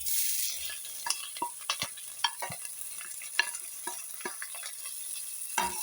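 Urad dal and chana dal frying in a pan get stirred, a close scraping and clinking of the spoon in irregular strokes over a soft steady sizzle.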